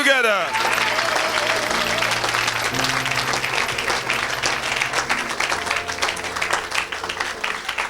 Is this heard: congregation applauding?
yes